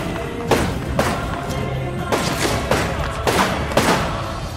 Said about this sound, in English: Kraber shooting at me.